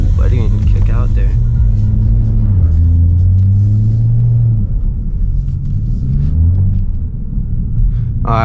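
A BMW E92 335i with a muffler delete drives along, its exhaust giving a loud, deep droning rumble that rises and falls with the throttle, while people talk over it inside the car.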